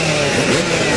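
Loud, close engines drone and rev in a dense mechanical roar, like several dirt bikes idling and throttling up together at a 2001 AMA Supercross start line.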